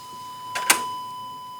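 A sine wave with crossover distortion, produced by a circuit simulation in Proteus, plays as a steady, buzzy tone throughout, broken by two sharp clicks near the middle, with no voices.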